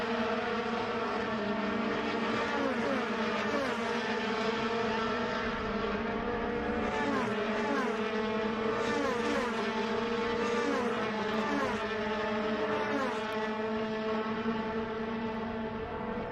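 Race cars lapping the track at NOLA during a race, a blend of several engine notes rising and falling in pitch as they pass and shift, steady and moderately distant with no voices.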